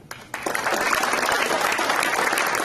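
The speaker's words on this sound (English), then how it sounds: "Everyone continue to give Cam a round of applause" Audience applause at a Dobyns-Bennett High School signing day ceremony, a loud, dense crowd clapping that swells after a brief quieter start and holds steady throughout.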